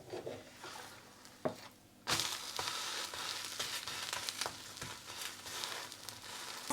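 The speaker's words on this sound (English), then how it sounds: "I'm going to flip it now" A savoury spicy Indian pancake flipped in a hot pan, a soft slap followed by a steady, close crackling sizzle that fills the rest of the moment, with no talking.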